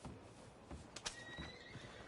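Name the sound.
horse neighing, from a video game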